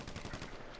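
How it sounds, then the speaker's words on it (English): Rapid gunfire from Grand Theft Auto V, a dense burst of overlapping shots that holds at steady loudness through the short moment. "The gunshots."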